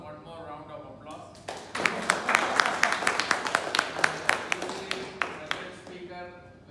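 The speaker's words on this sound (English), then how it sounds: "This was one more round of applause." Audience at a keynote address claps in a sustained round of applause, sharp individual claps standing out over a dense wash, building after a quiet start and tapering near the end.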